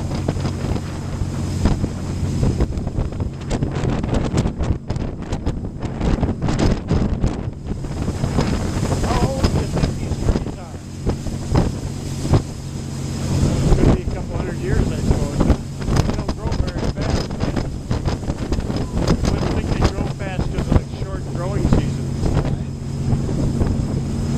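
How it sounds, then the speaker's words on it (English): A sailboat moving steadily through open water, with constant wind buffeting the microphone, a low hum, and wash of water running throughout; a voice talks over it at times. "Here we are, continuing to sail along."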